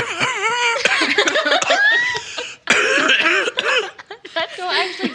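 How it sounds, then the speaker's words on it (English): Coughing into a microphone, several close harsh bursts mixed with throat clearing and laughter, broken by a short pause midway. "Cough into the mic, it'll add to it."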